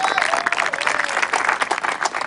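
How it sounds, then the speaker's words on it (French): An audience claps for a woman stepping forward in a televised desert-set drama, giving loud, close, steady applause that fills the whole moment with a brisk patter and no break. "on applaudit Mélanie très fort"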